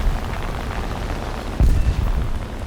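A dive bomb detonates in the War Thunder game, a sudden deep boom that punches through steady battle rumble and then rolls off into a low lingering thud.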